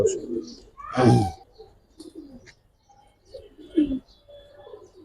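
Big pigeons, a male and female pair of coloured gorra birds, coo in a few low throaty bursts nearby, mixed with chirps and someone talking over them.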